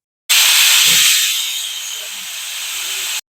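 A pressure cooker whistle bursts loudly while soybean pulao cooks: a sudden steady hiss of escaping steam that holds for about three seconds and eases slightly, alone with no talk.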